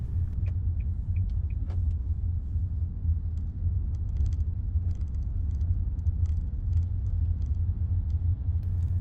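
An automatic car creeps slowly through queueing Christmas traffic, giving a steady low engine and road rumble from inside the cabin, fairly quiet and even throughout, with a few faint clicks.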